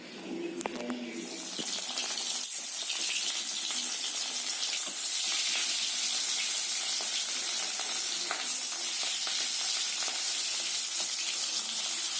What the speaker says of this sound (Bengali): এই যে কড়াইতে ভাজার জন্য তেল দিচ্ছি, মাছ ভাজার জন্য।